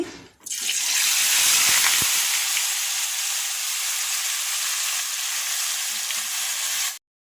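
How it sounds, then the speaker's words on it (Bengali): Marinated meat and bay leaves hit hot oil in a pan for home-style rice biryani, setting off a loud, steady sizzle that holds for several seconds and then cuts off abruptly. "তেল গরম হয়ে গেছে এখানে তেজপাতা দিচ্ছি আর এই মাংস ম্যারিনেট করা এই দিয়ে দিচ্ছি"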